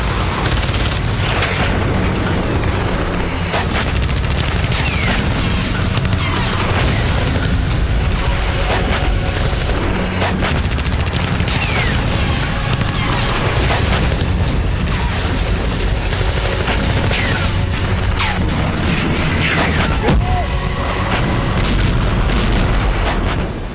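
Missile strikes and explosions on the Armenia–Azerbaijan front, with loud repeated booms and blasts over a constant roar of battle noise, dense and unbroken for over twenty seconds without speech.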